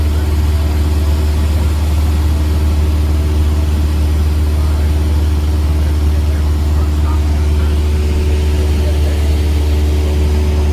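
Steady loud drone of a Cessna light aircraft engine heard from inside the cabin in flight, a constant low hum with propeller tones and no break.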